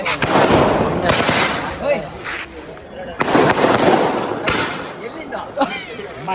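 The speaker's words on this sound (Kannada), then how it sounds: "ಪಟಾಕಿ ಆಗೋಗ್ಲಿ." Firecrackers burst in several sharp, loud bangs with crackling tails, spaced a second or two apart, with voices in the background.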